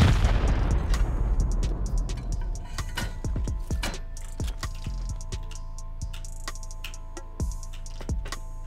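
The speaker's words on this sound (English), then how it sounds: "Gonna send some rockets and attempt to take this turret out without dying." Rockets fired at a turret in the video game Rust: a loud opening blast with a decaying roar, followed by a string of sharp clicks and thuds spread across the clip, with a couple of later impacts standing alone.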